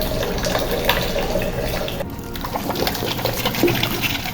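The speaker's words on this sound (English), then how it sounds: "Now this is the sound of the air trapped inside the pipe." Gurgling, sputtering water as trapped air pushes through a pipe to an attic water tank, steady and close, with a brief break midway.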